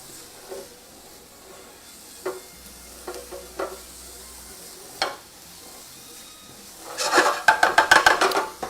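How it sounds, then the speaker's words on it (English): Scattered scraping and clatter give way to a loud burst of sizzling as food for huevos rancheros hits a hot pan, crackling in uneven surges. "now we're sizzling"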